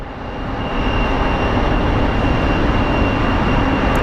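A JSX Embraer 145 jet lands at Phoenix Sky Harbor International Airport, a loud, broad roar that swells in over the first second and then holds steady with a faint high whine above it.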